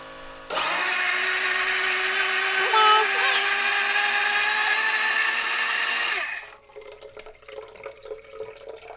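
A Milky Plant plant-milk machine hums and whirs steadily through its cleaning cycle with water rushing inside, loud and close for about six seconds before stopping abruptly, leaving faint clicks and room noise.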